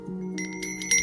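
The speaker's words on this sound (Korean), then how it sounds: "북한에서는 풍경 소리를 뭐라고 할까요?" A temple wind chime, a pungyeong, gives a few light metallic tings in quick succession, bright and close over a low steady hum.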